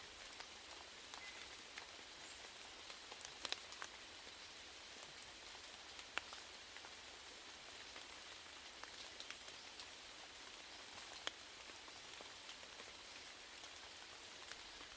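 Rain falls steadily on a surface, a soft continuous patter with scattered sharper droplet ticks, even and unbroken throughout with no voices.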